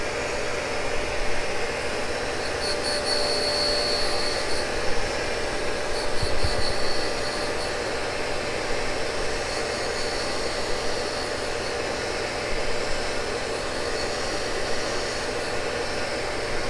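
A Cincinnati tool and cutter grinder grinds a Morse taper with a steady, even whine and broadband hiss that holds throughout, with slight surges and a brief low thump midway.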